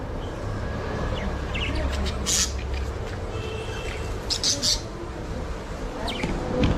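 Lovebirds chirping inside a pet shop: brief high chirps and tweets come in short bursts over a steady background hum of the shop.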